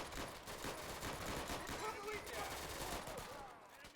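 Machine gun fire in the video game Easy Red 2, a dense, continuous rattle of rapid shots at steady loudness throughout, with game battle noise mixed in.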